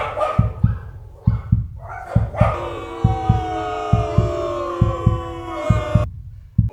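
Several dogs bark in a rapid, overlapping burst, loud and close, over a steady rhythmic thumping beat in the background.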